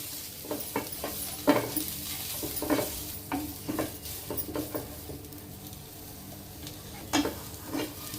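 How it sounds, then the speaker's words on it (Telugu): Carrot and beetroot frying lightly in a pan on a low flame, a steady sizzle broken by repeated scraping stirs at an irregular rhythm, close and fairly loud with no voices. "లైట్గా ఫ్రై చేద్దాం. అంటే మరీ ఎక్కువ కాదు, క్రంచీగా ఉండాలి."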